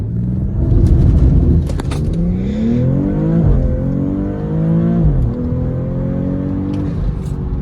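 A 2022 BMW X3 M40i with a stage 3 tune launches hard from a standstill in first gear. Its loud engine roars and climbs through rising revs with short dips as it pulls away, close and alone.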